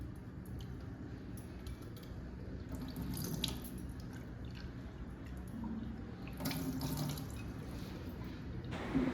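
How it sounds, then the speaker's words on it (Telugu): Foxtail millet mixed with a second grain is swished and rubbed by hand in a bowl of water. Steady close sloshing and splashing continues throughout, with brief louder surges of water near the middle and end. "రెండు కలిపే కడుగుతున్నాను నేను"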